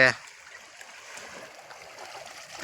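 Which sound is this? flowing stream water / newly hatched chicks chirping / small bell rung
flowing stream water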